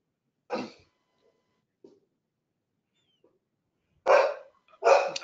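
A pet dog at home barks three times, loud and close: one single bark, a long quiet gap, then two barks in quick succession.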